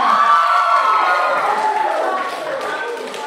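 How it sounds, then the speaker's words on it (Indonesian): A school hall crowd at a student council candidates' debate cheers and claps loudly and continuously, with shouts and voices blending into a broad roar that eases slightly toward the end. "Berikan tepuk tangan yang meriah."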